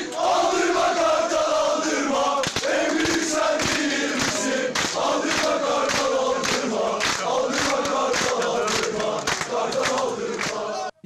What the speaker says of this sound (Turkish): Adliye koridorlarını tezahüratlarla inleten siyah beyazlı taraftarlar İstanbul Adliyesi'ni